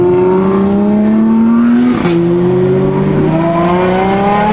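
A Ferrari 812 Superfast drives through the Alps with a loud, close V12 engine note holding a steady drone, briefly shifting pitch in the middle and then rising again as it accelerates.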